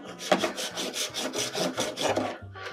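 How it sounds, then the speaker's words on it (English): A handsaw rasps through a block of clear cocktail ice in steady back-and-forth strokes, about a dozen close, rough scraping passes in an even rhythm with no talk. "Get yourself a nice serrated knife, or like I did, handsaw."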